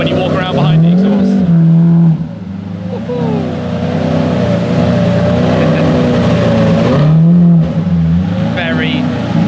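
A Lamborghini Murcielago's engine and exhaust rumble and rise and fall in pitch as the car is maneuvered on and off ramps, loud and close, with people talking over it.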